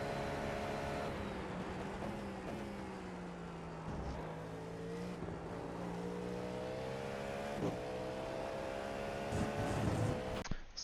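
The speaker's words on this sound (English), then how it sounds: "when approaching the first real braking zone for the first sector at full speed" A GTP prototype race car in the iRacing sim at Imola runs flat out, its engine droning with rising pitch before dropping sharply as it brakes for the first corner, with a few brief thumps along the way.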